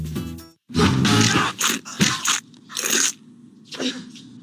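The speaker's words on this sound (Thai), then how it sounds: "เสียงอะไร เสียงความกรอบ" Several loud, close crunches of biting into a crispy Lotus snack, in quick bursts with short pauses between them.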